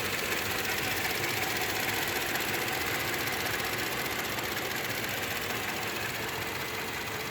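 A 2011 Toyota Tacoma's 2.7 liter 4-cylinder engine runs steadily throughout, a continuous close mechanical hum and ticking with no talk over it.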